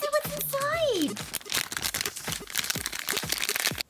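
Plastic troll blind bag, already cut open with scissors, crinkles and crunches as it is handled and opened, a steady run of close rustling bursts, with a voice talking over the start.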